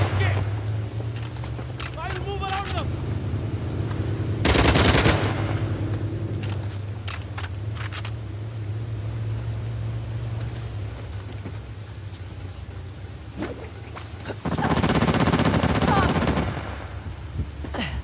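Bursts of automatic gunfire in the PS4 game Uncharted: The Lost Legacy, two loud sustained volleys a few seconds apart over a rumbling ambient bed, with scattered single shots and a voice shouting orders between them.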